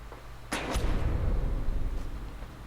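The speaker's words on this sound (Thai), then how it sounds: "ำไมเสียงปืนมันดังจังวะ" Gunfire in the stealth action game Hitman: Absolution, a sharp loud bang near the start followed by a second crack, then a booming low rumble that lingers under the game's ambient sound.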